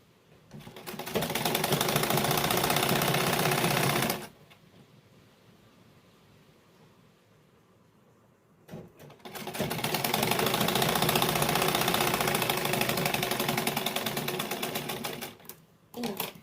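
A sewing machine stitches an invisible zip into a kurti, running in a loud continuous whir for a few seconds, pausing, then starting again and running steadily.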